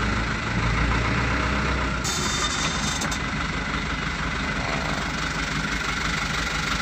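A Hino Dutro 300 truck engine rumbles steadily as the driver gives it throttle in first gear and the truck begins to pull forward, a loud, continuous low drone with no break.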